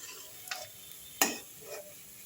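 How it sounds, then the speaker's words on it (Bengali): Lentil vadas for dahi bada fry quietly in hot oil, a faint steady hiss broken by one sharp clink and a couple of softer splashy bursts, with no voices. "এভাবে আমি সমস্ত বড়াগুলো ভেজে নিচ্ছি"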